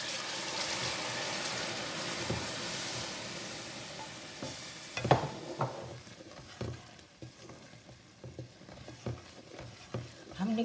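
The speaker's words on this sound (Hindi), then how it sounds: "इसमें चाशनी डाल रहे हैं," Sugar syrup is poured into a besan mixture in a pan, giving a faint hiss and trickle that fades, then soft, intermittent spoon scrapes and knocks as it is stirred, all fairly quiet.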